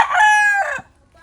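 A pullet in a backyard chicken coop gives one loud, close, drawn-out call lasting under a second, then falls quiet.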